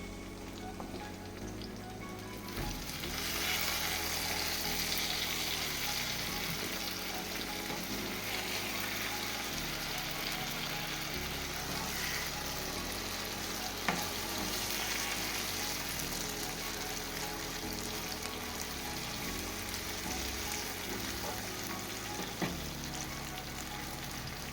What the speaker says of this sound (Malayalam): ലോ ഫ്ലെയിമിലിട്ട് വേണം ചിക്കൻ വറക്കാൻ.